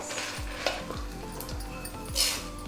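Food frying in a pan during village-style home cooking, a continuous sizzle with rhythmic spatula scrapes and stirring every half second or so.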